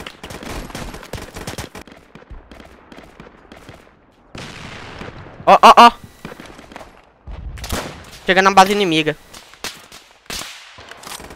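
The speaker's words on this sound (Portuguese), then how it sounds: "Ó os tiros, mano. Só dá pra ouvir os tiros." Gunfire crackles in Operation Overlord, a Roblox World War II shooter, in a few sharp bursts of rapid shots separated by quieter gaps, while a player talks excitedly between them.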